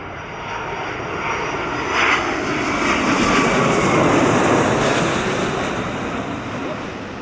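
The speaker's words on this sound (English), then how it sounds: "And getting very close to that aircraft." A fixed-wing aircraft at an airshow makes a loud, sustained engine roar with a broad rushing wash that swells and slowly fades as it passes close by.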